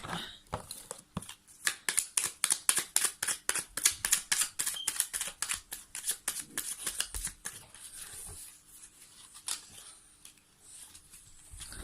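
Energy cards are shuffled and drawn close by, with a quick, rhythmic run of crisp card flicks that slows into scattered softer slides and taps, faint and with no voices.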